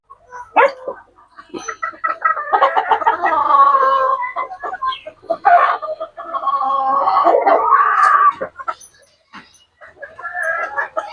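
Backyard fighting-cock chickens cluck and squawk close by in a busy run of calls, with short pauses and a few sharper cries.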